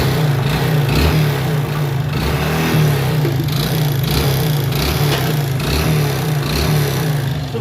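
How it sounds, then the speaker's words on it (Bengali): A Hero Glamour motorcycle engine running after being fitted, a steady mid-pitched hum with a regular pulsing beat and occasional slight rises in revs, close by. "ইঞ্জিনের সাউন্ডটা অবশ্যই শুনতে পাচ্ছ"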